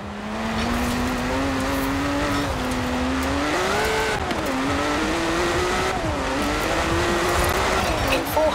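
A race car in Forza Horizon 4 on Xbox One X holds a loud, steady engine drone that rises and dips with gear shifts and acceleration, with faint tire noise underneath.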